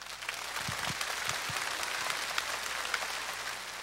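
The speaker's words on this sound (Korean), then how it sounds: "첫 번째 출연자 모십니다. 박수 맞아주시기 바랍니다." Audience applause greeting the first contestant at a televised Korean singing contest held in Goseong County, Gangwon Province: an even wash of many hands clapping from a distant crowd, sustained and moderately soft, without speech.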